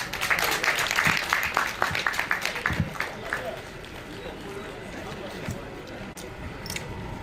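Crowd applause at a Nigerian Police practical demonstration, with dense clapping that is strongest at first and then thins into a lower, scattered patter, mixed with voices talking over it.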